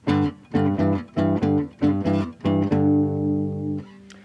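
An electric guitar plays a choppy, bouncing blues shuffle pattern of short repeated chords in pairs, ending on a longer ringing chord.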